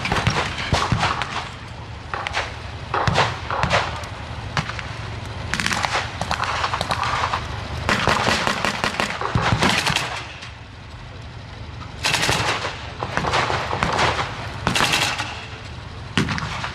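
Battle reenactment gunfire with mortar blasts alongside a Wehrmacht half-track and infantry: dense rifle and machine-gun bursts and sharp cracks in irregular volleys, loud and continuous, with occasional heavier booms.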